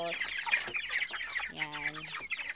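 Broiler chickens, a few weeks old, cluck repeatedly in a hot pen while being sprayed with a hose, giving a close, busy mix of short clucks and one drawn-out call over a steady background hiss.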